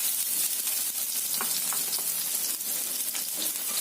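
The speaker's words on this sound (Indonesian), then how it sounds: "Kita goreng sampai matang ya, sampai layu." Sliced shallots sizzle and crackle steadily in hot oil while cooking turnip cake, a bright continuous frying hiss with small pops and no talking.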